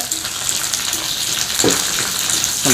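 Curry leaves dropped into hot oil with mustard seeds for a Kerala-style long green bean stir fry, giving a loud continuous sizzle with sharper crackling bursts near the middle and end.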